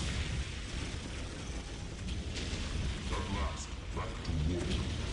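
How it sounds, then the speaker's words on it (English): Missiles firing during a battle in the video game Warhammer 40,000: Dawn of War, a dense, continuous rumble of explosions and bursts layered with scattered pops and battle noise throughout. "now that they're in position, start firing off all the missiles"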